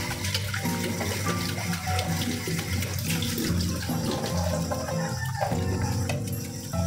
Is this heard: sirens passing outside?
no